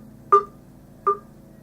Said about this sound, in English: It's just me sorting out my phone.